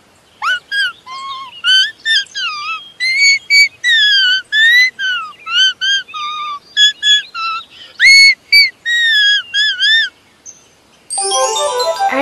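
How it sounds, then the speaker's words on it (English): Someone whistling a melodic tune with the mouth, a run of clear sliding pitched notes in short phrases, close and loud, ending with a brief burst of a different bright noise. "this is how I whistle"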